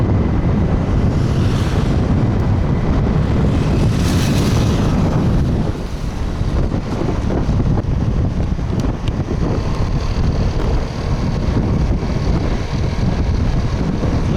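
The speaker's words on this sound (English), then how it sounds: "Very windy." Strong wind buffets the microphone of a rider moving through the streets of Da Nang, Vietnam, a loud continuous rumbling roar with gusty swells, easing slightly partway through.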